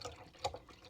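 Water, about half a cup, is poured into the bottom of an Instant Pot with soft splashing and gurgling, a few brief louder pulses in a quiet, close-up pour.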